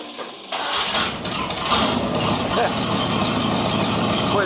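A 1932 Ford with a temporary electric fuel pump cranks and fires after a quiet moment, then settles into a loud, steady idle with a rough mechanical rumble as voices talk over it.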